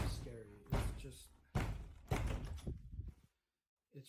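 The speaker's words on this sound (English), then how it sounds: "banging noises on the door that loud" Loud, heavy bangs strike a door in a few separated bursts, each a booming thud with a rattling tail, while a voice talks over the first part and a short knock comes at the end after a brief silence.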